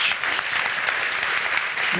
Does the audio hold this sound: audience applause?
yes